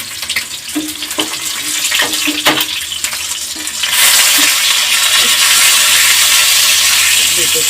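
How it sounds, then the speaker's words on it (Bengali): Quiet clatter and a few knocks, then bhola fish hits hot oil and a loud, steady frying hiss fills the rest, close up. "এবার বাকি মাছগুলো ভেজে নেব"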